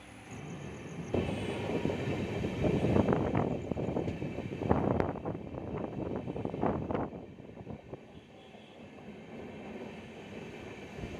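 Rumble and rattle of a passenger train running on the Bengaluru to Hubli line near Yeshwantpur, steady and close with louder clattering bursts in the middle, easing off toward the end.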